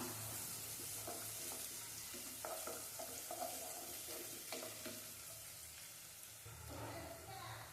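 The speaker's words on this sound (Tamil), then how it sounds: "இப்போ இந்த வெங்காயம் நல்லா வதங்கணும், வதக்கி விட்டுடலாம்" Onions sauté in a pan, stirred until golden, giving a soft continuous sizzle with faint scraping and stirring noises, quiet and close with no talk.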